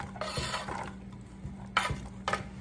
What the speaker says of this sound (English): we're going to scrape that onion into the skillet